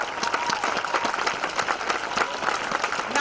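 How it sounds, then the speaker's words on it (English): Crowd applause at a protest rally, a steady wash of clapping from many hands held at an even level with no breaks, cheering and voices mixed faintly into it. "Let's just give them another round of applause."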